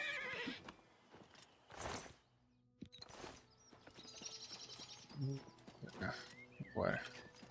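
A horse in the Oblivion Remastered video game whinnies and neighs several times, alongside hoof clip-clops and game sounds, while someone speaks over it.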